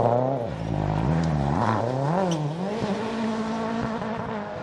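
A rally car driven hard on a forest stage at the Malcolm Wilson Rally, its engine revving and shifting through rising and falling pitch with occasional tire noise, steady and moderately distant.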